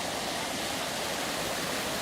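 Spring water flowing out beneath a bluff along an Ozark river makes a steady, broad rushing hiss with no breaks, even and moderately loud throughout.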